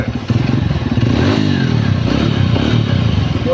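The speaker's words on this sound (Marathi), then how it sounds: "गाडीचा आवाज कसा आहे" A motorbike engine running steadily up close, a loud, even rumbling drone with a faint mechanical clatter throughout and no voices.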